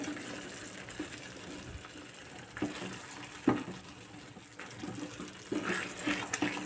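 Bombay halwa mixture bubbles and sizzles in ghee in a pan, giving a steady, faint frying hiss with scattered soft pops and plops.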